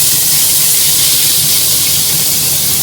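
Four large, very finely chopped onions sizzle and hiss loudly in hot oil, a dense, continuous frying crackle close up with no one talking.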